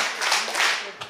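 An audience at an outdoor gakseori folk entertainment show on a special stage in Suanbo claps three quick times in unison, close and bright, over about one second.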